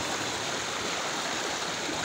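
Stream water flows continuously at Shahdara Point in Islamabad, a soft, even rushing wash heard close by for a brief moment with no voices.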